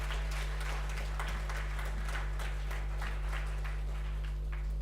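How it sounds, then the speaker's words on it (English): Audience at an industry event applauds steadily, a dense crowd clapping that stays even throughout, heard at a distance beneath a strong low electrical hum. "they deserve a fantastic round of applause from all of you"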